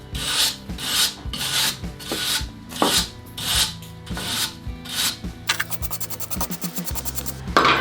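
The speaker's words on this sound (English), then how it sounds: "So that's where I would use the wire brush." A wire brush scrubs old, brittle Waxoyl wax from a car's underbody in repeated rasping strokes, close and loud, with quicker scratchy passes toward the end and no speech.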